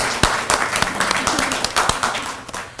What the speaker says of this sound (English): So if we could give them a round of applause